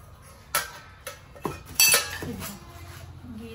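Iron tempering pans, bowls and other vessels clink and clatter as they are picked up and handled, a few sharp metallic knocks in close succession, near and fairly soft.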